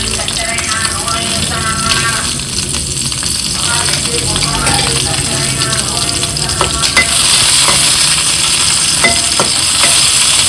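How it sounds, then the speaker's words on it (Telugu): Green chillies and tomatoes fry in a pan with a loud, continuous close sizzle, broken by occasional stirring clinks, and a voice speaks briefly partway through. "పచ్చిమిర్చి వేసుకుని వేయించుకోవాలి."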